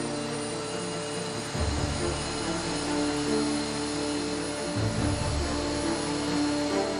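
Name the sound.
British Airways jet engine ground test run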